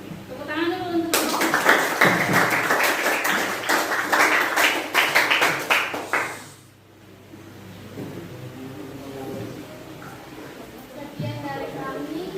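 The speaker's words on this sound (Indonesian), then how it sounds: "Tepuk tangan dulu untuk" An audience claps hands at a school counseling session: dense, loud clapping runs for about six seconds, then stops abruptly, leaving quiet speech behind.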